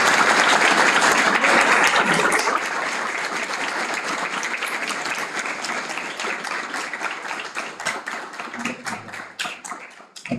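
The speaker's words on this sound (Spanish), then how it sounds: "Le damos un fuerte aplauso," Audience applause after a professor's talk at a public discussion forum, dense clapping that starts loud then thins into scattered individual claps as it fades.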